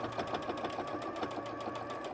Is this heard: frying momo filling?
no